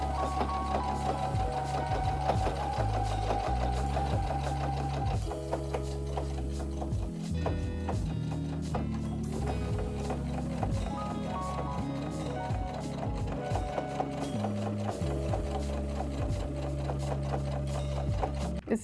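Embroidery machine stitching through thick sweatshirt fabric, a loud steady rapid needle rhythm with repeated mechanical clacks and whirring motor tones shifting as it works the heavy layers.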